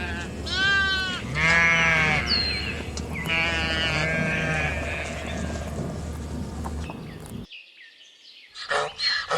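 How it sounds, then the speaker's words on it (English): Sheep bleat several times in a row, close and clear, with wavering cries and a brief dropout near the end. "Sheep."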